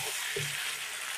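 Pre-fried potatoes seasoned with salt and turmeric sizzle in a pan with softened tomato for dhaniya chicken, a steady bright frying hiss with a brief soft stir sound.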